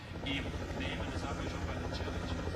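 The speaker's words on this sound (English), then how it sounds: "Still got the helicopters in the air" Helicopters hover over the closing kilometres of a Tour de Suisse stage, a steady low rotor drone in the background beneath commentary.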